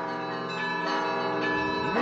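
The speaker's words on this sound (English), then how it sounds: "a bell ringer who plays for 7 minutes while on one leg" Church bells in Suzdal, rung by hand by a bell ringer, chime loud and close in a dense, sustained peal of overlapping tones, with a new strike rising near the end.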